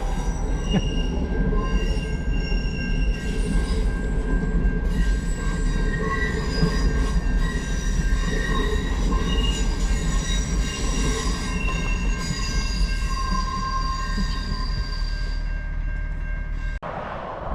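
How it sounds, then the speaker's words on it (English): The Alaska Bubble Train rumbles past continuously with loud, sustained wheel squeal ringing over the heavy clatter of rail cars, close and unbroken throughout. "The Alaska Bubble Train."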